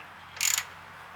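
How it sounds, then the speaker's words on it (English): A bolt stacked with washers is tightened on a Honda Integra DA9, giving one short burst of metallic ratcheting, close and fairly loud, that lasts about a fifth of a second against a quiet background. "I put a bunch of washers on this bolt like a Neanderthal, and I'm tightening it up"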